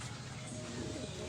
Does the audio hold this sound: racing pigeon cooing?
yes